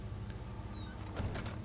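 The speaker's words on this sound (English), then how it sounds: "Close the door." A door closing in the horror video game Amnesia, a short sliding, creaking movement followed by a soft thud, quiet and close.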